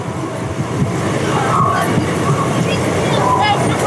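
Sealdah–Rampurhat Maa Tara Express (13187) rolls on after pulling out of Guskara toward Bolpur Shantiniketan, giving a steady, loud rumbling roar of wheels and carriages with faint rattles, continuous throughout.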